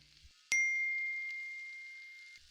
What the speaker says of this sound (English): Then his phone buzzed. One new message.